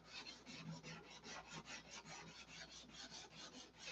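A wood finish is sanded off by hand, giving close, rhythmic rasping strokes, about four per second, that continue steadily and evenly throughout.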